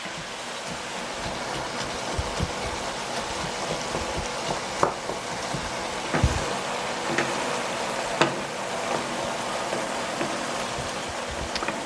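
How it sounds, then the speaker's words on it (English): Ground beef and onions sauté in a pan with a soft, continuous sizzle. Scattered clicks and sharper pops break through now and then. "I'm going to let that saute and simmer for just a little bit and let my onions get tender"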